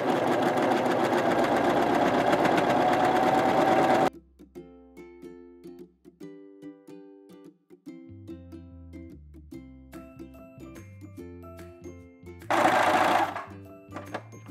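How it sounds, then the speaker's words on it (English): A cover stitch sewing machine hems a T-shirt dress, running in a steady, loud buzz for about four seconds before stopping, followed by quieter low tones and a brief burst of noise near the end. "we're gonna run it through the cover stitch machine. Okay, let's hem our dress."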